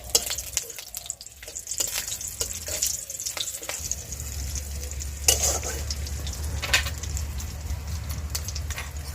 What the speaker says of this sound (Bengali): তেজপাতাটা গরম হয়ে গিয়েছে, এবার আমি 3টে কাঁচা লঙ্কা চেরা সেটা দিয়ে দেবো।